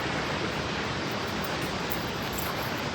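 A mountain stream and waterfall along the road in northern Gorkha's Dharche area give a continuous dense rushing roar, loud and unbroken for the whole three seconds.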